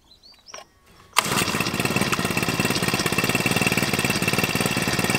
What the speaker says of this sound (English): Okay, there we go.